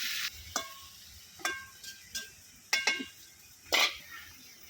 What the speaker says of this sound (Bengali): এখন দিয়ে দিব আলু আর বেগুনটা, একটু কিছুক্ষণ কষাই নিব